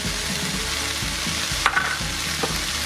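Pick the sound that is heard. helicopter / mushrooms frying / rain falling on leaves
mushrooms frying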